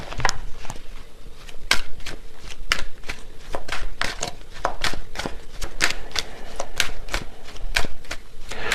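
Tarot cards being shuffled by hand, a rapid series of crisp riffling snaps and soft flicks repeating steadily at close range, with no voices.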